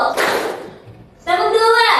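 A class of children claps together in a rhythm game, the sound coming as a short burst of many hands at once, followed by a teacher's voice calling out.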